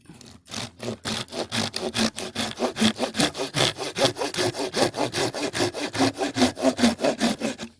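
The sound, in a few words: hand saw cutting wood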